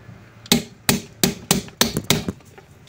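Hammer tapping the head of a stuck screw on a washing machine to loosen it, six sharp metallic knocks at a steady pace, close and loud with short ringing decay.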